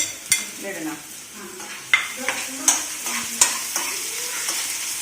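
Prawns sauté in a pan for a roast, with a continuous sizzle under repeated sharp scrapes and clinks of a spatula stirring against the metal.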